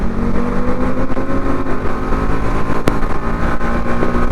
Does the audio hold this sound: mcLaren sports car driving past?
yes